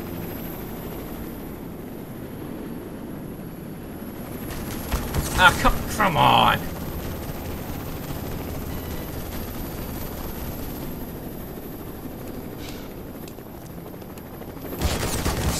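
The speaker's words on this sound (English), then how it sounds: "Stupid helicopter!" An attacking Apache helicopter in the Black Mesa video game, a low rotor drone under sharp bursts of gunfire around the middle and again at the end, with someone shouting over it.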